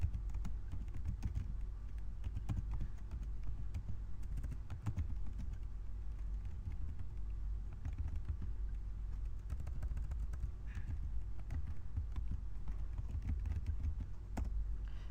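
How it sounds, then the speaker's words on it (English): Steady clicking of keys on a computer keyboard as a command is typed on a Linux machine, with a continuous low hum underneath and no talk. "For that, this is a command which you need to type."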